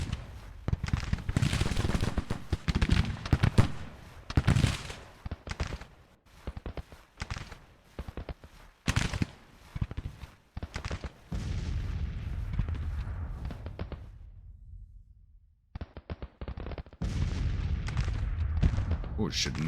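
Artillery fire in Grand Tactician: The Civil War, a strategy game, with repeated booming cannon shots and crackling volleys that come in uneven loud bursts, a brief lull, then more firing.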